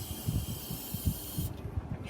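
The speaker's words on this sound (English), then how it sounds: "Now I'm gonna give it a little shot of starting fluid" Starting fluid sprays in a continuous faint hiss into the engine of a 2002 Ford Ranger with a bad fuel pump, cutting off abruptly near the end over soft low thumping handling noises.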